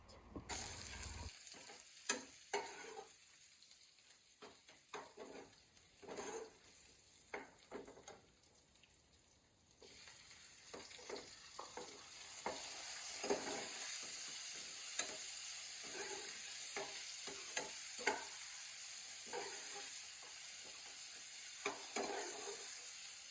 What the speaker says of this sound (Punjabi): ਹੁਣ ਆਪਾਂ ਅੰਦਰ ਜਾ ਕੇ ਲਾਉਣੇ ਆ ਜੀ ਦਾਲ ਨੂੰ ਤੜਕਾ